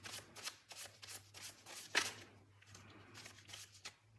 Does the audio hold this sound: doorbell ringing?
no